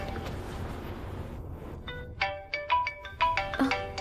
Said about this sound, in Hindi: मोमो का ही फोन आ गया।